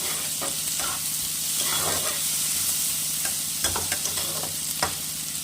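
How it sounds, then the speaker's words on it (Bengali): A spice masala is sautéed in a pan for a duck egg curry with cauliflower: a steady, close sizzle runs throughout, broken by repeated scraping and stirring strokes, with no speech. "মশলাটা একটু ভালো করে কষিয়ে নেব"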